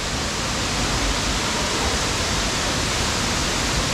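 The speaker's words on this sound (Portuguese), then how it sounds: "aqui é a cachoeira" A waterfall at Buraco do Padre roars as a dense, steady broadband rush of falling water, loud and close, with no voices over it.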